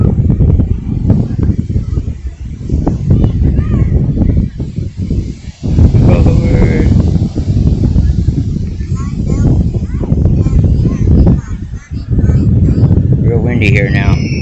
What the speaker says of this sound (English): Real windy here now.